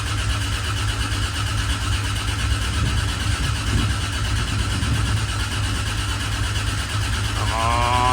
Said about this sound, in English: So it should just crank with any luck, if the timing's right, and make oil pressure.